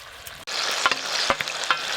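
Ginger-garlic paste hits chicken and onions frying in a pan over a village clay stove, raising a loud continuous sizzle with a few sharp stirring clacks.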